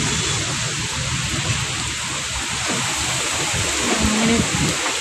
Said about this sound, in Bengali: এই হচ্ছে মেঘলা দিনে যে বৃষ্টি